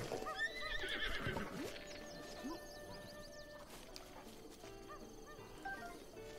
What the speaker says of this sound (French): Viens ici. Viens ici. Mon cheval!